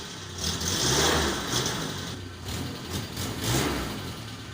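An engine catches and revs up close, swelling to a loud roar in the first second and again near the end, easing back to a rough idle in between, with no voices.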